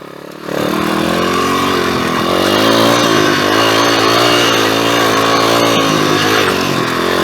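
A pit bike engine revs and labours continuously as the rider stands on the pegs over a rocky dirt trail, loud and close, with rising and falling pitch as the throttle changes.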